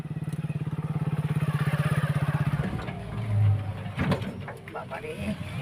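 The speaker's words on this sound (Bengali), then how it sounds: "ওরা বাপ বেটা যাবে এই যে বাইকে করে। ওরা এই যে চলে এসছে।" A motorcycle engine idles nearby with a fast, even putter for a few seconds, then revs and shifts as it pulls up, with voices and household noise around it.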